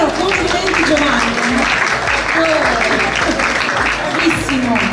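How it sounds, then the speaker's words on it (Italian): An audience applauds at a fashion show finale with sponsor runway, a loud steady clapping wash throughout, while a voice speaks over it near the front. "Un applauso davvero, complimenti Giovanni."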